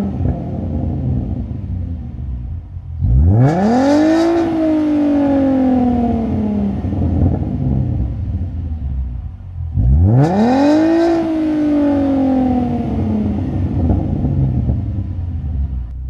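A Ford Mustang 3.7L V6 with a Flowmaster American Thunder exhaust idles with a deep burble, then revs sharply twice, each rev rising to a loud roar before falling back to idle.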